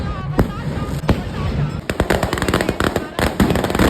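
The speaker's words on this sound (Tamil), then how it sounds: "கடை சைடு வான வெடிக்கையெல்லாம் விட்டு பயங்கரமாட்டு இருந்துச்சு" Fireworks and aerial crackers burst at a Soorasamharam temple festival in Thovalai Aralvaimozhi, with rapid, dense cracking volleys close by that grow busier after the first two seconds, over a constant crowd din.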